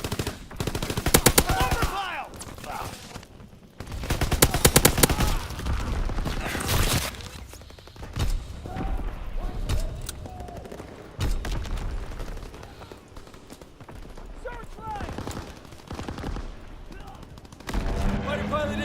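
Rapid bursts of gunfire from the World War II shooter game Call of Duty: WWII, loud volleys of automatic fire and single shots repeating throughout, with busy battle noise in between.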